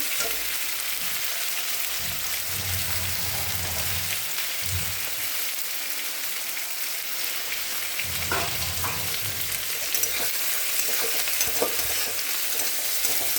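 Onions softening in a frying pan for a thin potato and aubergine curry, a steady broadband sizzle running throughout with soft low stirring rumbles, close and moderately loud, no talking.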